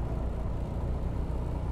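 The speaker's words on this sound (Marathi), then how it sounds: "गाडीला दम लागतोय खूप वरती चढताना." A Suzuki Access 125 scooter labours up a short ghat road with three riders aboard, a steady low engine drone heard close with no break.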